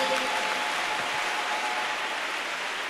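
A church congregation applauds, a steady dense patter of many clapping hands at a moderate, even level that holds throughout, with no speech over it.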